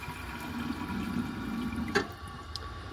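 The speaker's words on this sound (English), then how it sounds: "first let's add some water to the bowl" Water pours steadily into the bowl of a 1960 Crane Oxford siphonic toilet with a low gurgling rush, followed by a couple of faint drips and splashes.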